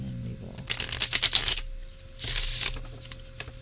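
Close, crisp riffle-shuffling of an Edmund Dulac tarot deck, a slightly stiff new deck: a rapid flurry of papery card slaps, a brief lull, then a second short burst of whirring riffles, with no talking.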